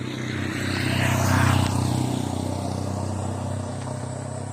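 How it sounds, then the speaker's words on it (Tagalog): A motorcycle passes by near a rural site with old World War II-era spots, its engine drone swelling to a peak near the middle and then fading away, heard alone without talk. "may dumaan na motor."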